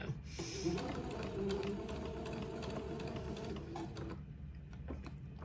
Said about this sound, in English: I'm going to sew this panel to the bottom of the dress, just sewing along the edge of the entredot.